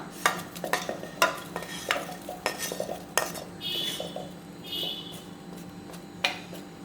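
Gooseberries for pickle are tipped into a metal pot, giving a series of sharp clinks and knocks with light scraping between them, quiet and close in a home kitchen.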